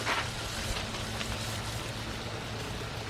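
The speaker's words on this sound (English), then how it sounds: "just want to give it a really liberal watering" Water is poured liberally over alfalfa pellets on container soil, a soft steady splashing patter, faint and continuous with no talk.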